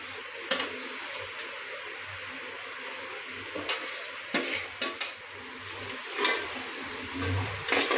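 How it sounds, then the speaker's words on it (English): A spoon scrapes and clinks against a cooking pot as tomatoes are stirred into chicken biryani masala, soft irregular knocks over a low steady kitchen hiss, fairly quiet. "Nicely mix and keep it until the tomatoes are nicely cooked."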